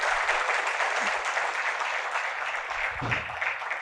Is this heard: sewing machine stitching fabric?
no